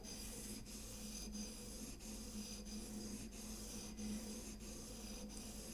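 A router plane blade being honed lightly on an oil stone, heard as a faint, even rasping rub with soft regular strokes repeating roughly every two-thirds of a second, close by and without talking.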